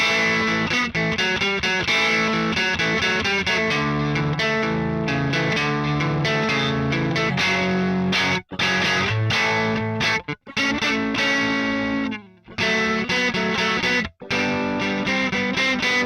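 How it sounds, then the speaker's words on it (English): An electric guitar plays a rhythm part through a distorted tone with wide stereo reverb and ambient effects: strummed chords ring out continuously, broken by a few brief stops between phrases. "So a fun rhythm guitar tone with a little bit of ambient characteristics."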